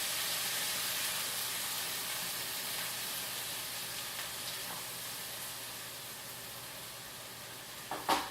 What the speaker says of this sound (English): While that's simmering